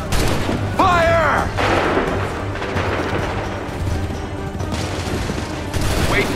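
Musket volleys crackle and boom in a chaotic Revolutionary War battle in Assassin's Creed 3, dense overlapping gunfire with shouted commands and voices mixed throughout.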